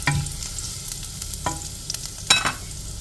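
Garlic and ginger sautéing in a pan after cumin seeds, for paneer bhurji: a steady soft sizzle with a few stirring scrapes and one sharper clatter of utensil on pan near the end.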